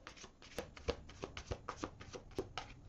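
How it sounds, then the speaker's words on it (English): Cards being shuffled by hand, a quick run of soft riffling slaps and flicks in a steady rhythm, close and fairly quiet with no talking. "One more shuffle. Pretty long shuffle."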